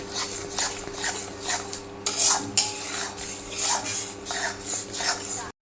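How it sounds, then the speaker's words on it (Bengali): Masala gravy for prawn malai curry being stirred and fried in a pan, a spatula scraping and clinking against the pot in repeated strokes over a soft, steady sizzle, close by and without talk. "তো দেখো ভালো করে কষিয়ে নেব এবার আমি এটা।"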